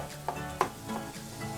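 Butter sizzles in a pan for a white sauce, a soft steady frying hiss broken by a few light clinks and stirring scrapes from a utensil against the pan.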